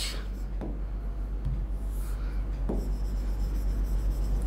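Chalk taps and scratches on a classroom board during a chemistry lesson, a few short, quiet strokes over a steady low hum.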